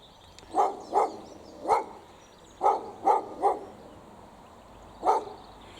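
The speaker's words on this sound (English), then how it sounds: "we've got a dog barking" A dog barking near a walking path in the Yorkshire Dales countryside, seven sharp barks in short bursts, some paired, fairly close and clear over quiet outdoor ambience.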